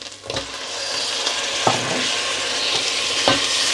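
Tomatoes going into a pan of golden-browned onions for an aubergine and potato curry, hissing in a loud, steady sizzle with a few stirring scrapes and knocks, close up and without any talk.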